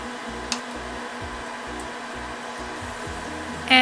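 Water is poured steadily into a pan of lentils for beef haleem, a continuous, even rush of moderate loudness running unbroken for several seconds.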